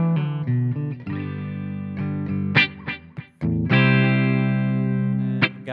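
Dry electric guitar through the clean channel of a Blackstar St. James amp, effects off, plays chords and short phrases with a few brief gaps and pick scrapes, bright and close, no talking.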